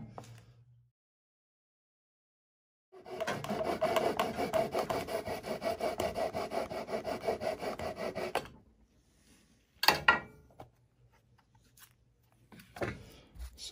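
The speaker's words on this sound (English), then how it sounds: "So let's give the coping saw another shot here." A coping saw cuts into a thick block of wood with about five seconds of fast, rasping back-and-forth strokes, followed by a few sharp knocks and handling noises in a quiet room.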